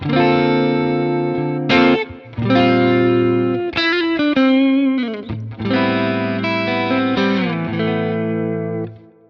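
A clean, sustained electric guitar plays chords and single notes with a smooth, ringing tone, alone and fairly loud, with brief pauses between phrases.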